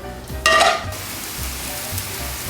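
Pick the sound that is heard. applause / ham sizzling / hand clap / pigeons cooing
ham sizzling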